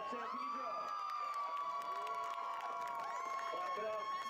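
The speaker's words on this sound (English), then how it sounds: "Clap it up." A crowd at an all-star high school football game event cheers and claps for a scholarship winner, with shouts and whoops over scattered clapping and overlapping voices throughout.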